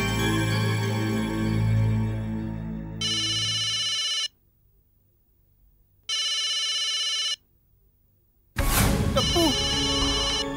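A telephone rings indoors in two clear, evenly spaced bursts of electronic trilling, loud and close, with talk and other sounds before and after.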